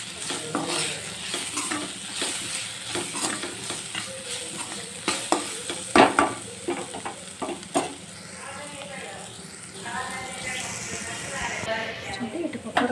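A spoon stirs and scrapes through sizzling turmeric, chili powder, coconut powder and coriander powder in a pan for egg curry, a continuous close frying hiss broken by stirring knocks, with a voice talking over it.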